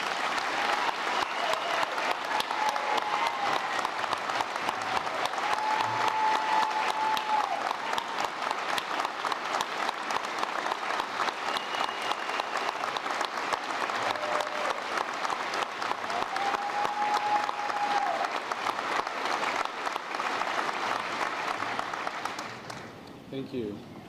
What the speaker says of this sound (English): We congratulate them on completing their college degree and applaud them for our service to our country